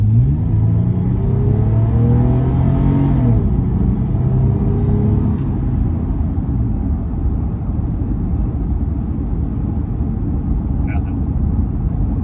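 A 2014 Toyota FJ Cruiser's engine revs up under acceleration, a rising rumbling drone heard from inside the cabin, loud and steady, with a voice talking over it.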